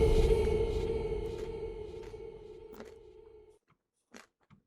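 A person chewing food: a soft, fading tonal hum runs under close, moist chewing sounds, followed by a few sharp, isolated crunches near the end.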